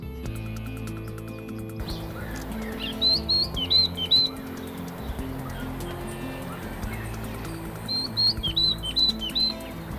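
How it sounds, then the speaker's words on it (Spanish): Birdsong, likely a Polioptila gnatcatcher in the Esteros del Iberá wetlands, with two bursts of short, thin, high chirps over a steady background of low tones. "El canto de los pájaros lleva una información biológica."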